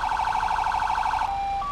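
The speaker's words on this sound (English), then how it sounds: "the siren's pretty cool as well" Military fire truck siren in the video game GTA 5, a steady loud wailing warble held for over a second before cutting to a thin sustained tone, with no talk over it.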